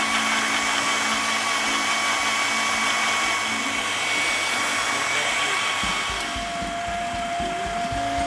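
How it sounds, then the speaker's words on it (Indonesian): A blender grinds shallots, garlic, coriander and ginger with water into a smooth spice paste. It gives a loud, steady whirring roar that holds for the whole stretch and eases slightly in pitch near the end, with no talk over it. "Dan kita tambahkan airnya untuk menghaluskan bumbunya"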